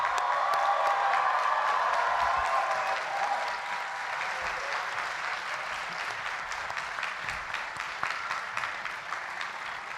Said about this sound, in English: Please join us in applauding the graduates.